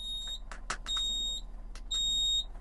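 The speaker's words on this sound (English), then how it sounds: "You'll get a warning buzzer and an indicator on the dash right here." A 2002 Prevost XLII Liberty motorhome coach's tag axle warning buzzer sounds inside the cabin, three evenly spaced high-pitched electronic beeps, each about half a second long, with faint clicks between them.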